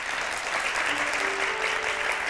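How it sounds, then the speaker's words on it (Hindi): Steady audience applause from a crowd at an Urdu-Hindi tribute show, dense and continuous throughout, with a faint tone humming underneath and no talking over it. "ज़ोरदार इनके लिए तालियाँ बजाई जाएँ।"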